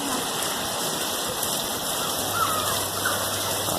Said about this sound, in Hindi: आज जुम्मा है और ये बारिश हो रही है